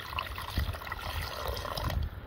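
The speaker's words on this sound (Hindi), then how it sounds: "हम इसमें थोड़ा सा पानी डाल के इसकी ग्रेवी जो है वो बना लेंगे" Water poured into a pot of village-style rooster curry, a steady close trickling pour lasting a couple of seconds with no talking over it.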